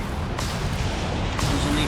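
Artillery barrage in a Company of Heroes 3 match, Afrika Korps against US Forces: dense rumbling explosions with two sharper impacts cracking through, loud and continuous, with a voice talking over it.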